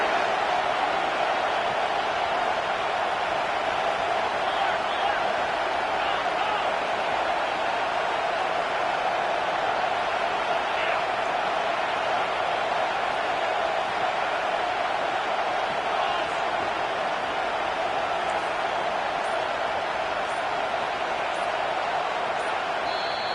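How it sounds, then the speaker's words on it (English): A packed football stadium crowd roars without a break through a tense third-down moment in a Georgia game, a dense, loud wall of cheering that holds steady from start to finish. "this crowd is tearing the lid off this place"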